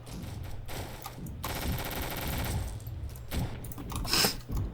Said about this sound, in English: I just got sniped with the pistol